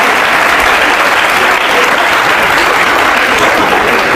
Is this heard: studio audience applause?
yes